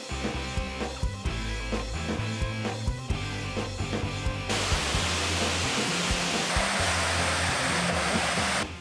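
A mountain waterfall in Zamboanga Sibugay rushes as a dense, steady roar that swells in after a stretch of music and holds loud and constant to the end.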